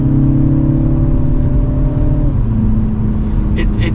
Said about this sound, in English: You hear how it's holding the rev?